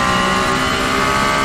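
A Ferrari 296 GT3 race car with a twin-turbo V6 roars steadily at full throttle, loud and close, a dense sustained engine note with no voices.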